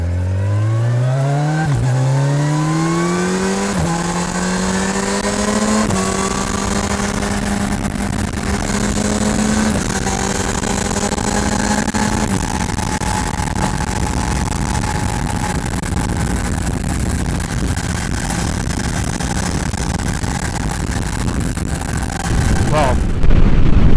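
A Kawasaki Ninja 1100SX fitted with an upgraded exhaust accelerates hard, its engine note climbing through several quick-shifted gears in rising steps, then holding a loud steady drone close to the rider.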